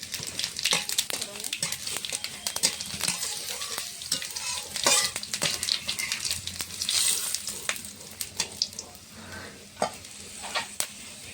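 Dried red chillies and whole cumin fry in hot mustard oil in a kadai, a loud close crackling sizzle broken by repeated scraping stirs and clinks of a spatula, with a voice talking at moments.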